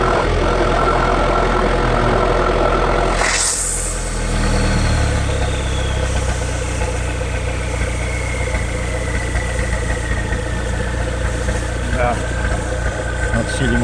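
A 4x4 diesel engine idles loud and close during an intake snorkel and airbox seal test, its rumble dipping sharply for a moment before settling back into a steady run.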